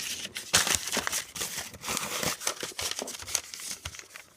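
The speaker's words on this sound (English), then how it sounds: "Got some paper. We got some paper" Sheets of paper being crinkled and handled beside a shop vac noise muffler kit, close and crisp, with irregular bursts of crackling and rustling that rise and fall for several seconds, no talking.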